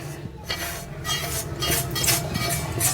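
Ragi flour is tipped into a bowl of peanuts, sesame, cardamom and jaggery, with soft scraping, rustling pours and light clinks of a spoon against the dish, repeated in short bursts.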